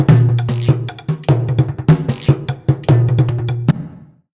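A heavy, broken percussion groove from the UVI Percussion Factory broken game preset: punchy, metallic cowbell-like hits and drums in an uneven, syncopated rhythm, loud and close, ending with a short decay.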